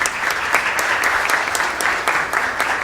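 Audience applause during a formal city council session in Recife, a dense burst of clapping from a room full of people, loud and continuous for a few seconds, no talking.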